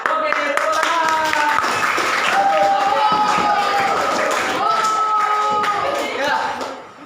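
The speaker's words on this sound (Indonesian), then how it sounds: "tepuk tangan" Audience clapping hands at a growth-mindset training session, a continuous crowd patter running under sustained tones and voices, fading toward the end.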